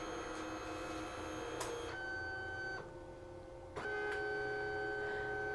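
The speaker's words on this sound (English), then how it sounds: "I think it's really cool how the sticker machine prints." A Liene PixCut S1 sticker machine prints layers of colour, its print head whining in high, steady tones with soft mechanical clicks and brief shifts in pitch, close and fairly quiet, with no talking.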